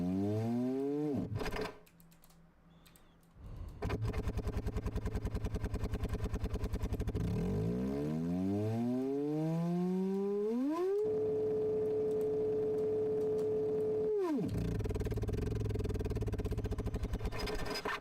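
A weak simulated engine in Engine Simulator cuts out, then restarts with a rough idle, revs up in a rising drone, holds a steady high buzzing note, and drops back to a rumbling idle, loud and constant.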